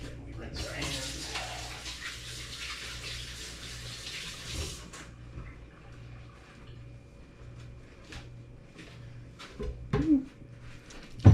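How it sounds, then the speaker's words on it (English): Hands rinsed under a running kitchen tap while cooking curry-spiced swai with jasmine rice, a steady splashing gush for about four seconds that stops abruptly, followed by quiet kitchen handling and a few soft knocks. "Then we rinse our hands."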